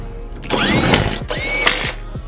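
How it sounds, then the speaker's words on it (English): A ratchet tightens taillight bolts on a 2008-2017 Mitsubishi Lancer during a rear bumper and taillight upgrade, giving two close bursts of rapid metallic clicking separated by a short pause, with no voices. "So now we're just tightening these bolts."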